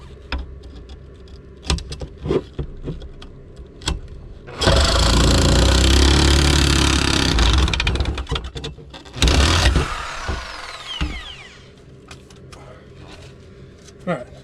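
A saw cuts through pipe while installing a Dometic 320 toilet, giving a loud, harsh, continuous rasp for several seconds and then a shorter second burst, with clicks and knocks around it and a voice speaking.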